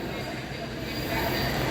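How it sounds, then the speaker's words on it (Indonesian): Sancaka Utara passenger train cars roll slowly through a station while being shunted, a short, steady rumble of wheels and rail noise at close range. "itu dia rangkaian kereta api Sancaka sedang dilangsir ya."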